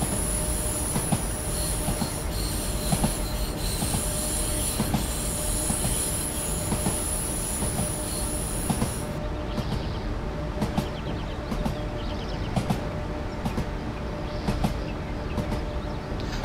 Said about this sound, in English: At this point I'm just allowing the train to coast along here as the gradient has now shallowed.